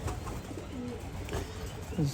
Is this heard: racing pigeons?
yes